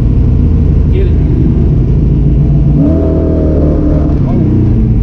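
The Black Pearl, a car tuned with a Holley EFI Terminator X, revs its engine loudly up close in a steady roaring drone that climbs in pitch midway, with voices talking over it.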